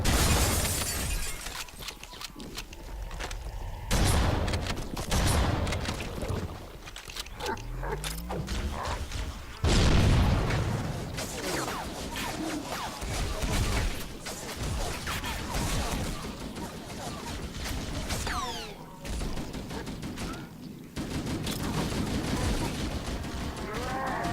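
Loud, dense gunfire and explosive rocket blasts from the video game Halo CE, with shattering crashes and rapid bursts layered over continuous combat noise, close and constant throughout.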